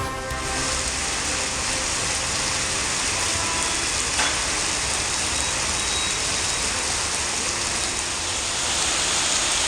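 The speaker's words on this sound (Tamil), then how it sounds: "தமிழ்நாட்டின் பல்வேறு பகுதிகளிலும் பரவலாக மழை." Heavy rain pours steadily across parts of Tamil Nadu, a dense, unbroken hiss that stays even and fairly loud for the whole stretch, with no talking.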